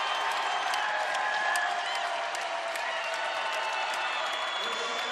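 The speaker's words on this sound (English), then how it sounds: "as this ICCU Arena crowd comes to its feet" Arena crowd at a college basketball game between Montana and Idaho in Moscow, Idaho, rising to its feet with sustained loud cheering and applause, a commentator talking over the roar.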